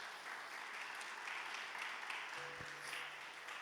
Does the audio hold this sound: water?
no